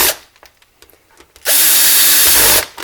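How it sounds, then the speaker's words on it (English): A power drill drives screws into the top casing of a Nintendo Virtual Boy console during repair, with a few light handling clicks before one loud sustained whir of about a second that stops abruptly. "We're going to treat and use the drill to screw in these screws in the top."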